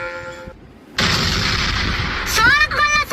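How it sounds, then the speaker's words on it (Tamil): Sharp crackling bursts of firecrackers go off close by on a road for about two seconds, followed by a rising whistling shriek, with faint voices in the background. "ரோட்ல வெடி வெடிக்க போறயா"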